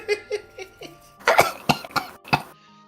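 A run of coughs, first several soft, evenly spaced hacks and then a louder, harsher cluster of four or five coughs, close to the listener with no talking over it.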